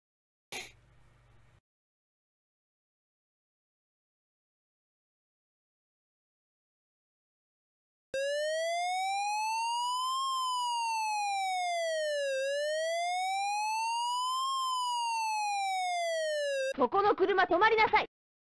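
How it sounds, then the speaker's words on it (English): An electronic siren wails up and down in smooth rising and falling sweeps, loud and synthetic, preceded by silence and ending in a harsh burst. "that's the sound of the police."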